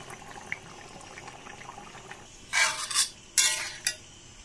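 Hot water poured into meat frying in oil in a pan, a low sizzle with light stirring that breaks into two loud hissing bursts as the water hits, each fading quickly.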